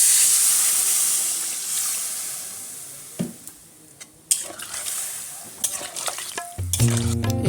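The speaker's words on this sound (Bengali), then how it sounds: "এবারে আলুটা সেদ্ধ হওয়ার জন্য আমি জল দিয়ে দেবো।" Water poured into a pan of frying potatoes for a vegetarian Kashmiri paneer dish: a loud steamy hiss that gradually fades, followed by scattered clatters of a utensil and lid.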